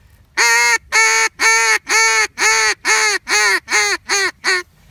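Ten loud, evenly spaced honking notes from a duck call blown as a long call with attitude, each blast bright and nasal, the sequence slightly speeding up and shortening toward the end, with no talking.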